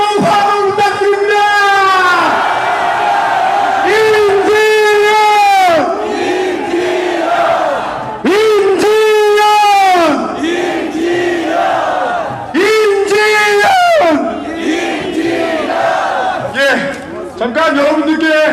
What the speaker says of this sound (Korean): 우리 임지연 대표님을 향해 다시 한번 환호 부탁드립니다